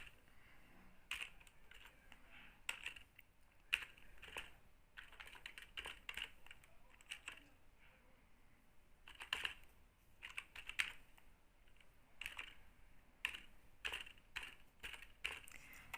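Quiet clicking of a computer keyboard as names are typed into a spreadsheet, with irregular bursts of keystrokes and short pauses, close and faint with no talking.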